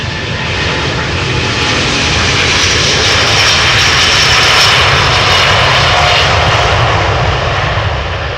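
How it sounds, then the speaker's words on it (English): Delta Airlines Airbus A330neo jet departing Amsterdam Schiphol, a loud sustained engine roar that swells slightly toward the middle and holds, with no talking. "Delta Airlines Flight 49, Airbus A330 Neo outbound to New York"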